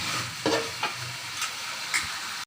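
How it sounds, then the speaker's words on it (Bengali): Fried katla fish curry sizzles in a pan as gravy goes in, a steady frying hiss broken by a few soft stirring scrapes, close and fairly quiet, with no talking. "তারপর একটু ঝোল দিয়ে দিব"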